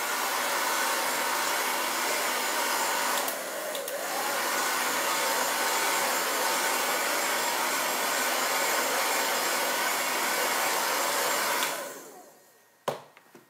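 A hair dryer blows with a loud, steady whooshing roar close by, dipping briefly once, then shuts off near the end.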